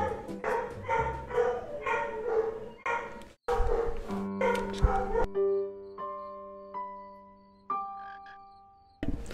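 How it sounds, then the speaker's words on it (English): Several dogs bark repeatedly in loud, close bursts, then yip and whimper more sparsely, with a voice talking over parts of it. "No, stop barking."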